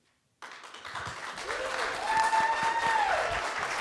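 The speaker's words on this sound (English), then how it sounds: "Big round of applause" A crowd at a university business pitch competition breaks into applause, clapping starting abruptly and building to a steady dense roar, with a few whoops and a faint voice rising over it.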